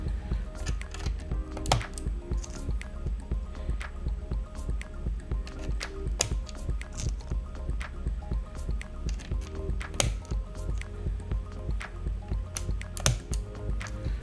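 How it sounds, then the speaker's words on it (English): Mechanical keyboard switches pressed one after another into hotswap sockets on a Kemove Snowfox board, giving a steady run of close, crisp clicks and snaps at an even pace, with no talk. "take your switches and pop it into your keyboard like a little Lego"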